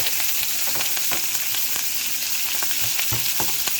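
Steaks sear in a hot pan on a stovetop burner, giving a steady loud sizzle and crackle throughout with a few sharper pops and spatters, and nobody talks.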